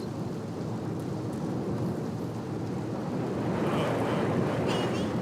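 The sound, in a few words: thunderstorm in a video game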